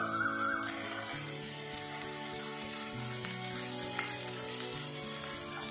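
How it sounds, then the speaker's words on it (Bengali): Ginger garlic paste frying with onion paste in a pan, a steady, close sizzle with faint stirring scrapes running throughout with no one speaking. "আদা রসুন পেস্ট আমি ভালো করে ভেজে নিয়েছি"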